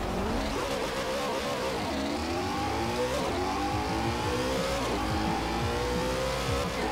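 Lamborghini Aventador and Porsche 918 in a Forza Horizon 4 drag race: a loud, continuous engine roar with rising revs, repeated gear-shift sweeps and faint tire noise, with no talking.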